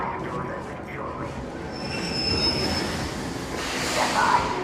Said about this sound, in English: The train arrives to us shortly.